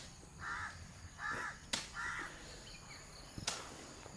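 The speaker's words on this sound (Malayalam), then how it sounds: "കാക്കകൾ വിരുന്ന് വിളിക്കുന്നില്ലോ" Crows caw in short harsh calls, about three spaced caws, fairly distant and soft over a quiet rural background with a couple of sharp clicks.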